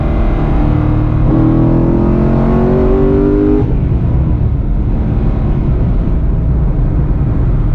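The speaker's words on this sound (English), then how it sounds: "Here we are, we're on the highway." A modified Corvette cruises on the highway, its engine a loud, continuous low drone heard from inside the car, with pitch rising through a gear then settling into steady road rumble.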